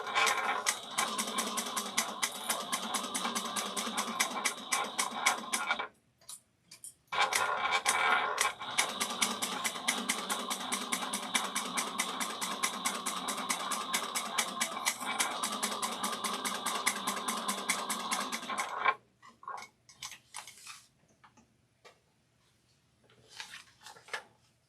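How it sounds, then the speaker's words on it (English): A sewing machine stitches a satchel in rapid, even bursts: a long run, a brief pause, then another long run before it stops, followed by quieter handling and rustling. "We're going to sew at a 1/2 inch back stitch in the beginning and end."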